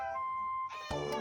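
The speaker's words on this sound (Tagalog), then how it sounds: "Meow meow." A cat meows, close and clear: one or two short, tonal meows in quick succession after a brief steady hum.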